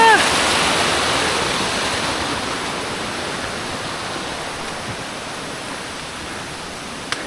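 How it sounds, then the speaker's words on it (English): A waterfall on Mount Hale roars in a steady, broad hiss of falling water, loud and close at first and easing slightly, with no talking. "It's a pretty waterfall, isn't it?"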